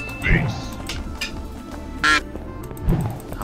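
A person's voice imitates a duck, giving a few nasal, honking quacks spread across a few seconds during a game of Arkshot.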